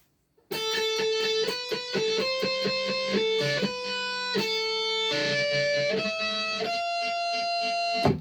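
Electric guitar plays the second part of a song, a steady run of sustained, distorted single notes and chords that shift pitch every half second or so, loud and alone after a brief silent start.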